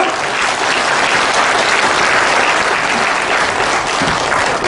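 Sustained audience applause fills a launch rally for a Korean nuclear-security citizens' front, a dense, even wash of many hands clapping at steady loudness with no voices above it.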